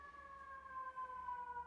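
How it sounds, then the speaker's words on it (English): A distant ambulance siren wails steadily in New York City, a faint sustained tone that drifts slowly in pitch over a low hum of street traffic. "New York City, there's always an ambulance when you're trying to wind down"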